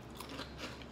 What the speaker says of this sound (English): when I put it in my mouth and then I inhale as I'm like chewing